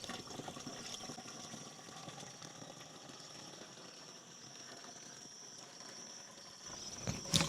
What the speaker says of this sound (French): Donc, on introduit 10 litres d'eau.